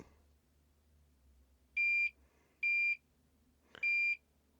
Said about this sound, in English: So the gas there, it's been released, setting the alarm.